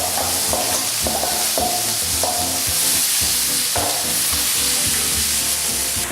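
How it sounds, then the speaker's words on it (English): Food sautés in a pan with a steady loud sizzle, punctuated by repeated utensil scrapes and stirring knocks throughout. "Okay, that's gonna saute."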